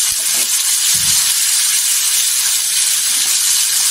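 Tomatoes drop into hot oil with golden fried garlic for a green chili thecha, giving a loud, continuous bright sizzle and hiss that holds steady the whole time, close up and without speech.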